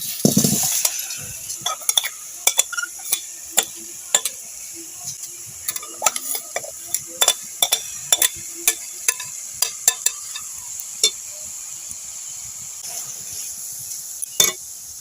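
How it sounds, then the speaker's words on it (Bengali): Raw mango pieces are stirred in a hot, oil-free wok, producing a long series of sharp spatula clicks and scrapes against the pan over a faint crackle, close up, with no talk. "এবার আমি আমটা কড়াইয়ের মধ্যে দিয়ে দেব। কড়াইটা গরম হয়ে গেছে।"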